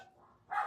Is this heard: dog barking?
yes